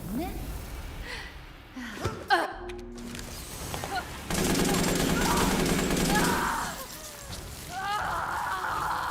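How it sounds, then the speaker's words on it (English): Powerful rifle gunfire in the survival horror game Resident Evil Village, a dense sustained burst of loud shots with game effects and cries mixed in, following a few scattered impacts. "Wow, that rifle is strong. Melted her in no time."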